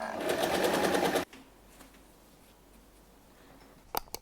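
A sewing machine stitches a colour-block tote bag, running in a fast, loud, steady burst for about a second before stopping, followed by near-quiet and a couple of faint clicks.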